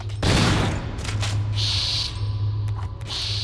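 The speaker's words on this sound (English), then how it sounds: "it takes multiple shots with the frickin' shotgun to actually kill these things" Shotgun blasts in the Resident Evil HD video game against creatures that soak up several shots: a loud, close boom opens, followed by sustained noisy roar and bursts with brief high tones, no talk.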